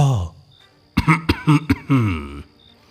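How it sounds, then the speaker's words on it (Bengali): A close, clear run of four or five quick, harsh coughs, followed by a longer rasping throat-clearing sound. "হঠাৎ একটা কাশির শব্দে আমরা ফিরে তাকিয়ে একেবারে থ"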